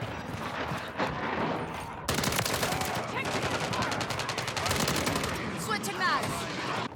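Rapid automatic gunfire in the shooter Call of Duty Modern Warfare III, loud close bursts and sustained volleys that dominate after a brief lull, with shouted squad callouts mixed in.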